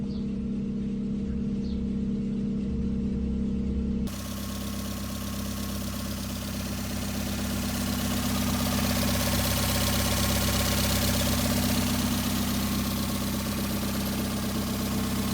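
A Toyota 4EFE engine fitted with the 4EFTE fuel rail and injectors idles close by with a steady, even drone and an unbroken mechanical hum throughout.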